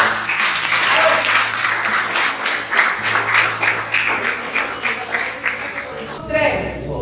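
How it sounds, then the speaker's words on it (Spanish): Dense, continuous audience applause at a church coordination and animation gathering, a loud wash of many hands with some voices mixed in, ending abruptly. "Aplauso para Lucho."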